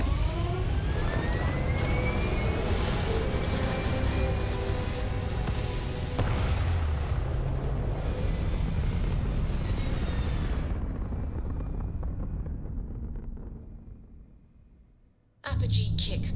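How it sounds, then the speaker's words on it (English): A spaceship in Starfield lifting off with a loud, sustained roaring rumble and rising whine that fades away near the end, followed by a brief burst of sound. "We have liftoff."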